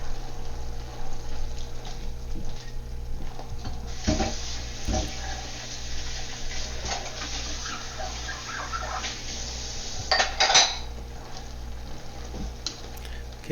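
Beef and broccoli stir fry sizzles steadily in a hot pan while being stirred, with a constant frying hiss and occasional scraping clatter from the utensil, strongest near the middle and end.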